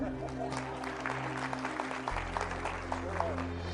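Scattered clapping rises from a congregation during a sermon, a moderate, continuous patter of hands over a low steady hum from the room's sound system.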